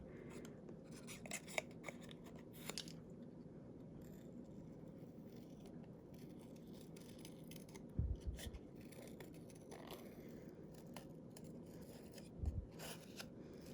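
Scissors snip through paper for a handmade card in quiet, close, intermittent cuts, with a few soft handling bumps and no talk.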